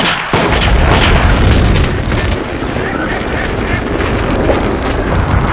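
Loud, dense rumbling barrage of gunfire and blasts in the 1969 film Invasion, a continuous roar of shots and booms with no clear pauses.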